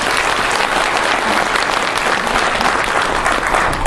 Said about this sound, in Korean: 여러분 박수 한번 치시죠